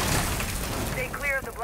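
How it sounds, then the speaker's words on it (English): Frag grenade blast in the tactical shooter Rainbow Six Siege, a loud rumbling boom with crackling debris, overlapped by speech and voices close by. "Stay clear of the blast."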